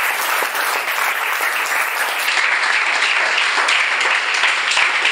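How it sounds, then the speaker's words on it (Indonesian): Audience at a school gathering applauding together, a dense, steady burst of clapping that holds loud and even for several seconds. "Ya, tepuk tangan semua."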